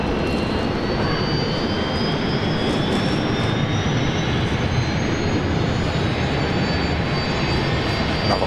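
A jet airliner comes in to land on runway 19 Left at Brisbane Airport, its engines a loud, steady roar with a rising whine that holds throughout, close and alone.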